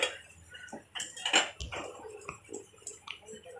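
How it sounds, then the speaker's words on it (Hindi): A spoon stirs custard paste in a pot on the stove, giving faint, irregular clinks and scrapes of metal against the pan. "ये देखिए इस तरह से चम्मच चलाते जाएंगे"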